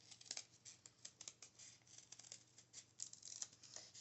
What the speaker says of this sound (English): You need to have some nice sharp scissors to do this